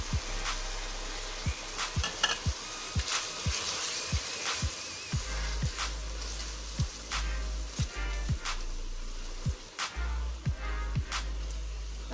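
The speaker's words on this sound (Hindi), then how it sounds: "इसमें टमाटर का पेस्ट शामिल करेंगे" Tomato paste fries in hot oil with beef for achari gosht, giving a steady close sizzle broken by repeated sharp scraping clicks of a spoon stirring against the pot.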